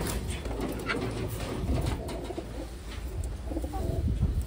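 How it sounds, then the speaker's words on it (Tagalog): Blue check pigeons, Taiwan birds, cooing softly and repeatedly nearby over a faint background hiss, with no talking. "Next natin mga kalapatids is blue check."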